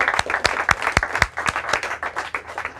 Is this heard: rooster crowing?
no